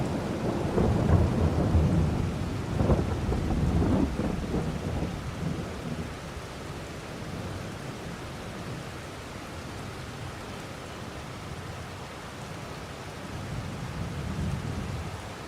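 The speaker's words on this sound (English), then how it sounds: "It's going to rain all day" Rain and thunder from the Farming Simulator 22 video game, with a low rolling rumble of thunder early on over a steady rain hiss that then settles into a quieter, even downpour with no talking.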